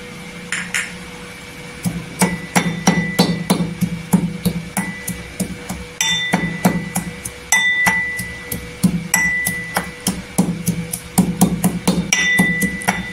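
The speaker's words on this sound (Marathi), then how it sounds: "आणि तुम्ही किसून घ्यायचं नाही, टेचूनच घ्यायचं।" Ginger and black peppercorns are pounded for tea in a steady series of sharp, close metallic strikes with a bright ringing edge, repeating rhythmically for several seconds without talk.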